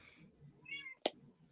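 A domestic cat gives a single short meow partway through, fairly close, over a quiet indoor background.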